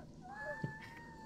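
A short, faint cat meow from The Sims 4 rises briefly over a steady electronic hum and a sustained synthetic tone.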